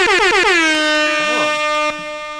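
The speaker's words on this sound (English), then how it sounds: "Oh, it is Tom. An air horn." A loud, sustained air horn blast with a bright, brassy tone, holding steady for about two seconds before cutting off abruptly.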